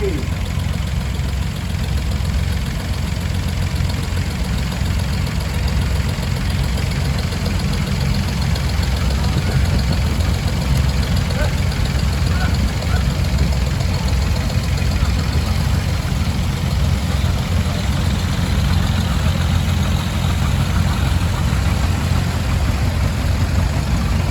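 A 1947 John Deere B tractor idles with a low, steady engine rumble and a continuous chugging throb, close by in an outdoor show setting, with an announcer's voice audible over it.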